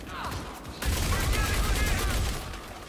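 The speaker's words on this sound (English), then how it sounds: "You are firing at a wall" Rapid gunfire in the space game Star Citizen, a loud continuous burst under a speaking voice, with a short quieter stretch of scattered sounds before it.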